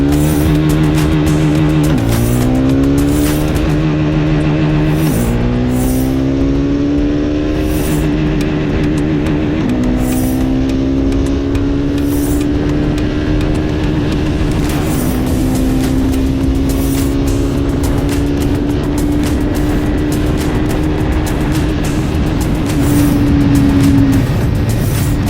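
A six-speed motorcycle accelerates hard toward top speed, its loud engine note climbing in pitch and then dropping at each gear change, about four or five shifts in a row, heard up close with strong wind roar and no talking.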